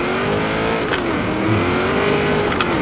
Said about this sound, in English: Nice long burnout.